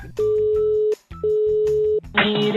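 After a call is cut, a steady electronic telephone tone beeps in two long pulses separated by a short gap, loud and clean, before studio noise and music take over at the end.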